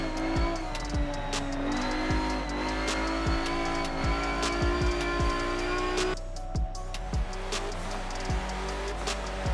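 A race car in a racing video game drives fast, its engine revving up and down through gear changes, with repeated tire squeals and skids between the revs and no voices.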